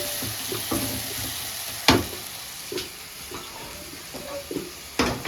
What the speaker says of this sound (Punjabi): ਇੱਧਰ ਸਾਡਾ ਮਸਾਲਾ ਭੁੱਜ ਰਿਹਾ